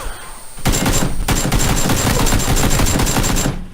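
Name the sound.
gunfire in the video game PUBG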